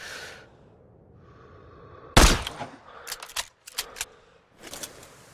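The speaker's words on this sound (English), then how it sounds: "Check the wind and pull the trigger." A single loud, sharp rifle shot cracks out in the sniper video game Sniper Ghost Warrior 3 after a quiet lull, followed by a short echoing tail and a few scattered clicks and thuds of bolt handling.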